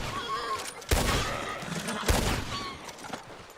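Gunfire in a video game as a player shoots pigs, two sharp distinct shots over a continuous busy background of game noise.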